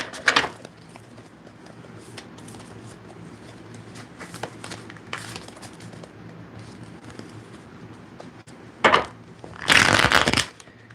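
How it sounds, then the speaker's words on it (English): Tarot cards shuffled by hand indoors: soft riffling bursts near the start and middle, then louder, longer crisp riffles toward the end, close and clear with no talking. "But let me give you your teaser cards here first."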